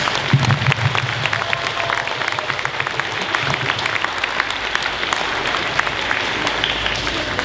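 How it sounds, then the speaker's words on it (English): Audience applause fills a middle school band concert in a school setting, a steady dense clapping that holds evenly throughout with a faint low murmur beneath it. "Let's give them a round of applause for their book, page number 6."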